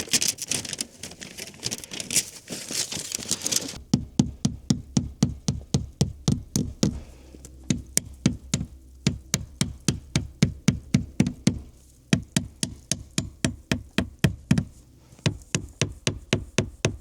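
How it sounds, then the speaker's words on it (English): A hammer drives staples into a wooden stud while working on a cabin: a steady series of sharp, close knocks, several dozen blows in an even rhythm after a few seconds of rough scraping noise. "I'm gonna have to take my hammer to that."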